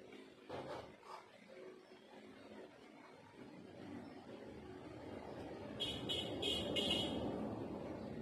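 A car passes outside, its engine noise building gradually to a louder rumble, with a short horn toot near the end and faint indoor sounds early on.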